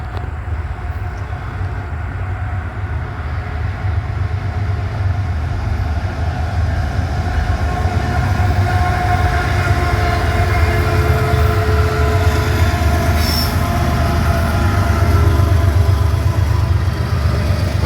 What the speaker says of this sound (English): So I think I got a train coming.